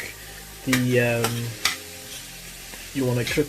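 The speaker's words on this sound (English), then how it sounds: "Give it a good stir." A spoon stirs flour into a thickening beef fricassée sauce in a pan, giving two close bursts of scraping, squeaky stirring over a light sizzle, with quieter clinks between them.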